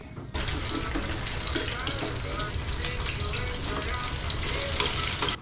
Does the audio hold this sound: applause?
no